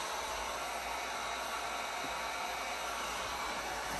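A heat gun blows a steady, even hiss of hot air while warming an aftermarket vinyl skin on a Pro-Boat Blackjack 42 RC boat hull, close and constant with no talking.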